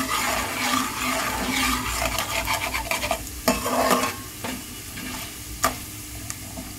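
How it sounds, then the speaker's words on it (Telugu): Mixed multicolored lentils fry in a pan and get stirred for upma, a continuous sizzle broken by sharp scraping clacks of a spoon against the metal. "మల్టీ కలర్ పప్పులన్నీ వేసేసుకోవాలి. అవి కూడా వేయించుకోవాలి."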